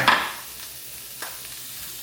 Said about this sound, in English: I'm gonna let these sizzle right here.